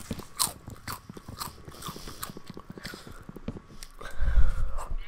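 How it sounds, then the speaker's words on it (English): Special K crisps are munched close to the microphone, with loud crunchy bites and chewing in an irregular rhythm, plus a breathy snort near the end. "sorry about the munching sound"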